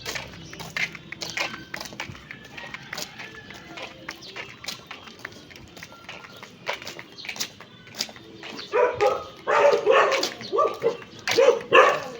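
A big dog barks in a residential neighborhood in Pangasinan province, with scattered barks early and then a louder, denser run of barking near the end, heard fairly close over outdoor background.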